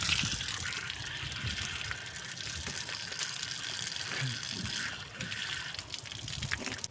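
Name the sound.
washing face with water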